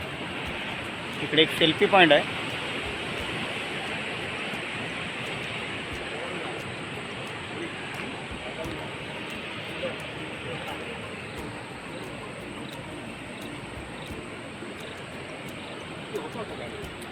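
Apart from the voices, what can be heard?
sea waves at Devgad beach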